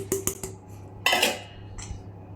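Spoon or whisk clinking and scraping against a bowl while coconut, egg white and vanilla are mixed, a few quick close taps then a louder scrape, with no voices.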